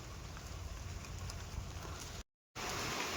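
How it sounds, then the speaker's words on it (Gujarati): Steady rain patters densely on surfaces nearby, a constant hiss of drops broken by a brief moment of silence before it resumes. "ચાલો ભાઈ, વરસાદ તો કે વધ્યો"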